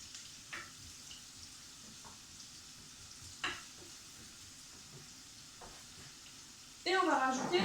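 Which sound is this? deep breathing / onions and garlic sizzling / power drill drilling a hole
onions and garlic sizzling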